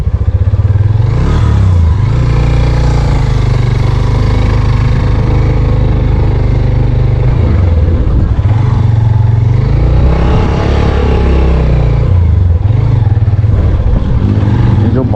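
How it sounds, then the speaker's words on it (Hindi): A Suzuki motorcycle rides on a sandy road on a long trip from Karachi toward Ormara in Balochistan. The engine drones loud and close throughout, with a steady low rumble that rises and dips as the rider works the throttle. "बाइक है सुजुकी, देखो"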